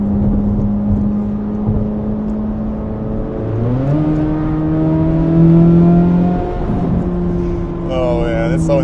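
A Chevrolet Corvette C8 Z06 engine revs while driving. Its tonal exhaust note climbs and steps up through gear changes, then surges louder before easing off, heard from inside the car.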